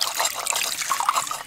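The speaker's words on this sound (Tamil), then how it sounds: "இந்த மாதிரி தண்ணியை ஊற்றி அப்படியே லைட்டாக அப்படி கொஞ்சம் கொஞ்சமாக அப்படியே அரிச்சிட்டு வரணும்" Water is poured and swirled over hand-pounded rice to wash it and separate out stones, a short, close trickle and slosh with light splashing.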